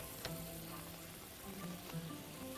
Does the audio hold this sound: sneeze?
no